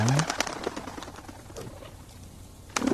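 Pigeon cooing in the video game I Am Cat, a soft low call near the start with scattered game sounds and faint rustling behind it.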